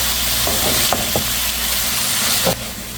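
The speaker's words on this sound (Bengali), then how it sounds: "অল্প অল্প করে দিয়ে নেড়ে দিচ্ছে কারণ অনেকগুলো শাক" Mixed garden greens stir-fried in a pan make a loud, steady hiss and sizzle with a few scraping stirs, the sizzle dropping slightly near the end.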